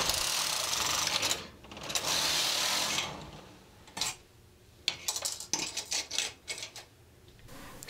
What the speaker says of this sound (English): We just need to change to waist yarn, knit a few rows, and take it off the machine.